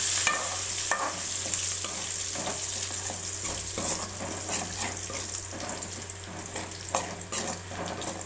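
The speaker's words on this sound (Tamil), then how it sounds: "இது கூடவே ஒரு கொத்து கருவேப்பிலை சேர்த்து அதையும் நல்லா வதக்கிடலாம்." Onions and curry leaves sauté in a pan for a bitter gourd gravy, with a steady close sizzle and repeated scraping stirs of a utensil throughout.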